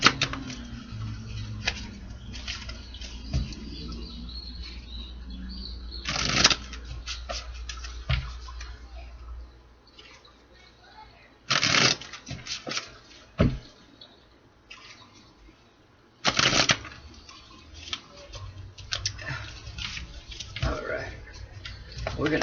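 A deck of tarot cards is shuffled in a few brisk riffling bursts, spaced between stretches of steady talking.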